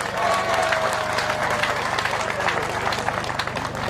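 Crowd at a Ugandan government event applauding President Museveni, a sustained, dense round of clapping with a faint murmur of voices mixed in.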